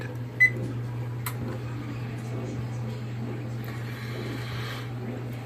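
A short electronic beep from an oven keypad, followed by a steady low hum as the oven starts running.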